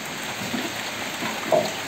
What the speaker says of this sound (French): Il pleut à fond.